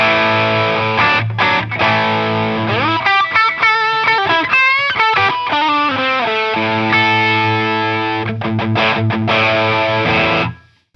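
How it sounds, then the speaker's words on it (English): A guitar played through a Triumph overdrive pedal with the gain pushed to maximum gives a loud, heavily distorted, buzzing tone across sustained chords and quicker note runs, then cuts off abruptly at the end. "So let's push the gain to the absolute maximum and see how distorted it gets."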